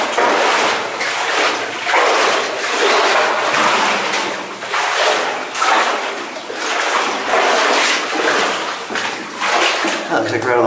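Footsteps sloshing and splashing through shallow water inside an abandoned silver mine tunnel, steady rhythmic wading strides close by, with someone talking intermittently.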